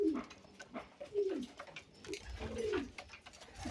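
House pigeons coo nearby in soft, rolling phrases, three or four throaty calls spaced across a few seconds over a quiet background, with no speech.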